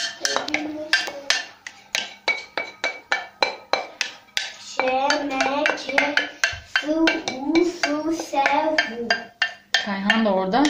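A spoon clinks and scrapes against a pot while garlic yogurt is stirred into pasta, quick rhythmic metallic taps repeating throughout, with someone talking over the stirring.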